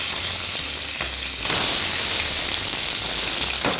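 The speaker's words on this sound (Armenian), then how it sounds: "Այս յուղով կտապակեմ եղեսպակի տերևներ" Sage leaves fry in rendered pork fat, giving a loud, steady crackling sizzle close by that swells slightly midway, with a few soft stirring knocks and no speech.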